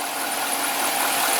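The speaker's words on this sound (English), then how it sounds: "You can hear the engine starting to lope" Chevy truck engine idling unevenly with a slight lope from a vacuum leak while running rich, a steady broadband mechanical rumble heard up close and alone with no talking.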